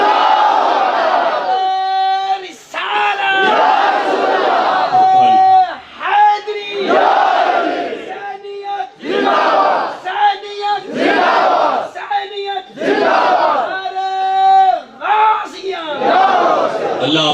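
A large crowd at a religious gathering roars a slogan in unison with a preacher, voices swelling in repeated loud bursts with brief gaps between them, the leader's call alternating with the massed response.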